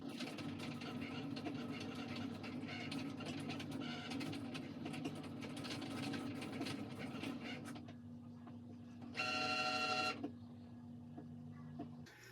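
Vinyl cutting machine loading a mat and cutting a full tumbler template, heard as a steady low motor hum with rapid clicking carriage movement, then a short, sharp, higher whirring burst before settling back to a quiet hum.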